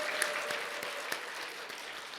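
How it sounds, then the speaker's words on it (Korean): Church congregation clapping for the women's choir at a Wednesday service, a sustained, moderately distant round of applause with a few sharper individual claps standing out. "우리 이 여전도를 우리 격려하면서 우리 큰 박수로 함께 격려했으면 좋겠습니다."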